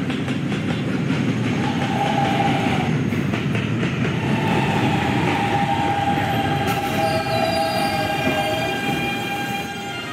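Westbound D subway train arriving at Fairview Avenue station on the 5th Avenue Lines, a loud continuous rumble of rolling cars with squealing wheel tones, heard alone without voices.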